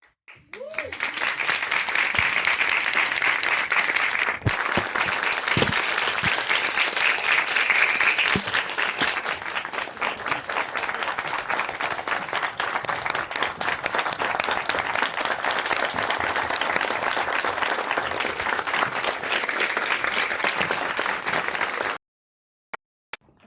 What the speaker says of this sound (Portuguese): Eu gostaria de pedir, não 1 minuto de silêncio, mas 1 minuto de aplausos para os dois.